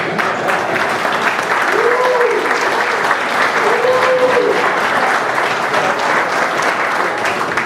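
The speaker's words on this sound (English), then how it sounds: "Let's give them a round of applause." An audience gives a steady, dense round of applause at a fraternity breakfast event, clapping continuously and evenly throughout, with a voice briefly calling out over it.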